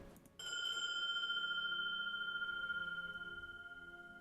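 A distant chime rings out over a soft wash of rain, its clear sustained tones starting suddenly and then fading slowly.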